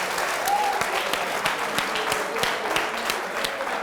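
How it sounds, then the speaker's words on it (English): A roomful of people claps for the debaters at a televised debate on a health workers' strike, a steady patter of applause with a brief voice over it. "a round of applause for our debaters"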